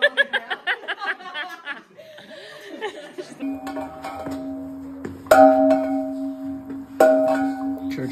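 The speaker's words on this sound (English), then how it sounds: "Church bells ding, huh?" Chuckling gives way to church bells, two clear strikes a couple of seconds apart, each ringing out with a long humming resonance.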